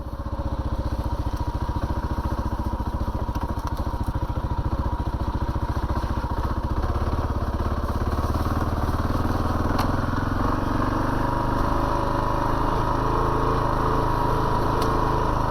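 A Kawasaki KLR 650 motorcycle, a 2022 model, rides a muddy trail with a steady, loud engine drone and a rough rumble that holds constant throughout with no talking.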